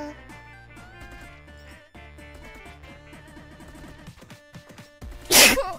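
A single sharp sneeze bursts out near the end, loud and close, over busy chiptune-style game music from HoloCure that plays throughout.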